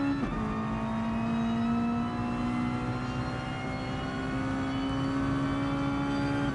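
Race car engine held at full power in a Mini and Mazda racing video game event, a steady high droning whine that holds its pitch with a slight rise, loud and continuous throughout.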